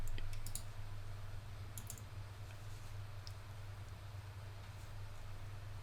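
Typing on a computer keyboard, with scattered light key clicks in small bursts over a constant low hum.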